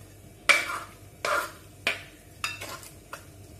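Rice and lentils being stirred into melted jaggery for Vishu kanji, giving about six separate scraping, sloshing stirs spaced roughly half a second apart, close and moderately loud, with no talking.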